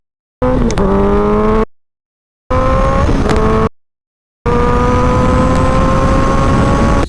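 A Suzuki Hayabusa Gen 3 superbike with a quickshifter revs loudly in three bursts, the first two cut short by silence, the last held long and steady with a rising, buzzing pitch.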